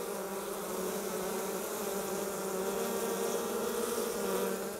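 A honey bee colony buzzes densely and continuously up close, a steady, even drone with no voices.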